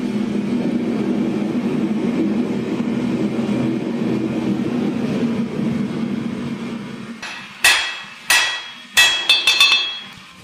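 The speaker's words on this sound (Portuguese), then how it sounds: "Chanfrar é uma das minhas etapas favoritas na fabricação de facas, porque dá pra bater na lâmina sem tanta preocupação com precisão." A San-Mai Damascus kukri blade is hammered to forge its bevel: a steady workshop roar gives way to four loud, ringing metal strikes in quick succession near the end.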